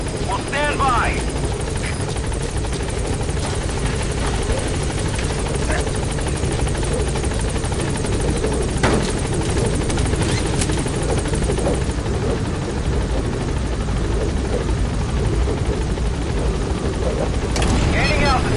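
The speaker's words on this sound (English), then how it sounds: "Have arrived at LZ." In Metal Gear Solid V, a helicopter holds steady at a landing zone, its rotor drone loud and constant throughout, with faint radio-style voice chatter layered over the thrum.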